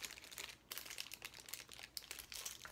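Tape peels off a plastic bag that holds a Breyer Stablemate model horse, giving quiet close crinkling and crackling in short bursts that stop and restart.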